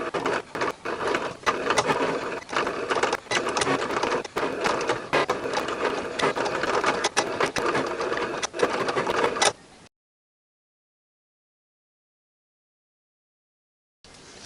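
Vinyl cutting machine working through a sheet of vinyl on a mat for a LEGO pirate flag, a busy whirring and clicking with rapid carriage movements, steady and close, then cutting off into silence.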